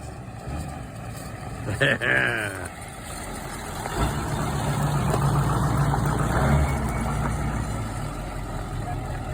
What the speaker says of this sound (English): Here she's coming down the road under her own power.